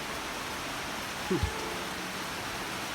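Heavy rain falls in a steady, dense hiss that fills the whole scene, with a brief low thump and a faint voice breaking through midway.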